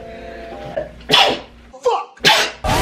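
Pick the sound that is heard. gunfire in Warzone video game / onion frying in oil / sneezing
sneezing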